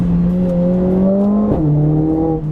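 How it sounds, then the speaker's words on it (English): A turbocharged four-cylinder Mercedes CLA 45 AMG engine droning loudly as it accelerates, pitch rising steadily, dropping briefly at a gear change, then climbing again. "The engine sounds good for a 4-cylinder"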